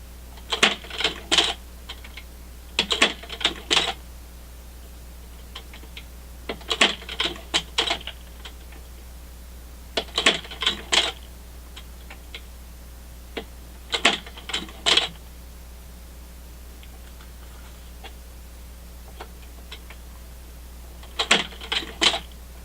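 A machine stitching a leather guitar strap along its final curved section, running in short clattering bursts of rapid needle strikes separated by quiet pauses, with a steady low hum underneath.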